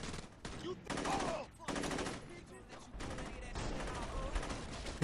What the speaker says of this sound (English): They just started shooting right away.